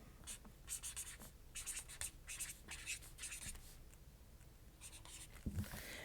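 Pen writing on paper savings dashboards for cash stuffing, close and quiet, with repeated short scratchy strokes in bursts and brief pauses, no talking.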